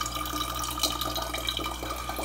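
Bottle filling with water from a kitchen water purifier, a steady, close trickling and splashing stream that runs unbroken throughout.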